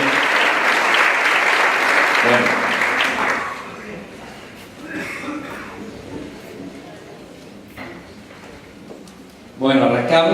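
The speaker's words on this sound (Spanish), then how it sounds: "Démosle un aplauso mayor a ellos, un fuerte aplauso por 15 años de trabajo." Audience applause at a panel event, loud clapping that fades after a few seconds into quieter scattered claps and murmuring, with voices returning at the end.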